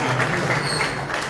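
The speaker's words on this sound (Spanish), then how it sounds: "un aplauso para el doctor" Audience applause welcoming a doctor at a Guarani language and culture tribute ceremony, a short, dense burst of many people clapping at once, fairly loud and steady without pauses.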